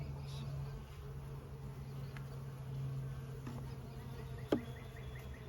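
Honey bees hum steadily from an open hive during a beekeeping inspection, a low continuous drone with faint buzzing passes and one brief sharp knock near the end.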